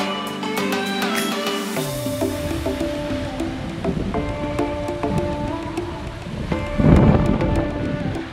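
Rain falls on a sailboat at sea on the Pacific between Kiribati and the Marshall Islands, with a steady hiss and a swelling rumble of thunder near the end, heard alone.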